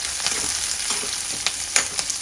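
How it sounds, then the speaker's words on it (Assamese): Onions sizzle in hot oil in a pan while a korma is being cooked, giving a close, steady hiss broken by a few sharp crackles and stirring scrapes. "তেলটো পুরো গরম হয়েছে এই তেলটো আমি দিয়ে দিম পেঁয়াজ"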